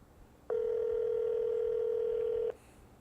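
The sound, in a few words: telephone call being dialed and ringing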